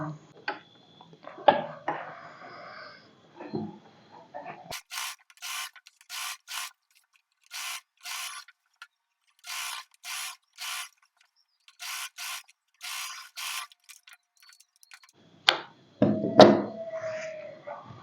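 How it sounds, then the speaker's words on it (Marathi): A sewing machine top-stitches along a strip at a dress neckline in short, even bursts of rapid mechanical clatter separated by pauses, with some fabric handling rustles before and after. "पूर्ण गळ्याला ह्या पट्टीवरून दाब शिलाई मारून घ्यायची आहे पूर्ण गळ्याला"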